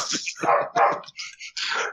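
A voice imitates a dog barking, giving several short, punchy bark-like yelps in quick succession, close and fairly loud.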